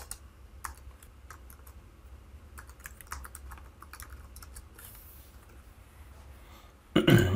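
Typing on a computer keyboard during counter-sales software entry, a string of quiet, close key clicks in irregular bursts over a low hum, ending in a louder rustle.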